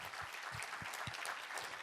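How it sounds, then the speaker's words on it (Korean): A church congregation at a worship service claps in thanks to God, a continuous, fairly faint wash of applause with soft low thumps mixed in. "우리 하나님께 감사와 영광의 박수 올려드리겠습니다"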